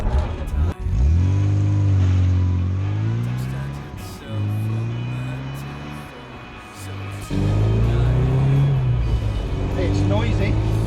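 A 1966 Mini Cooper S driving, its engine droning and rising through gear changes with audible rattling from the cabin, loud and close from inside the car, with no talk.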